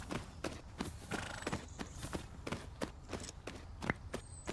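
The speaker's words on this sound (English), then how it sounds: "hoofbeats sound a little off to me" Steady hoofbeats of a horse in the video game Tales of Rein Ravine clop in an even walking rhythm, close and clear, with no talking over them.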